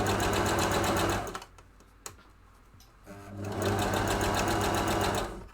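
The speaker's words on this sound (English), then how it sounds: "Also the first time I'm sewing this fabric, so very curious on how it'll go." A sewing machine stitches fabric for a hat in two steady, loud runs of rapid needle clatter, separated by a pause with a brief click.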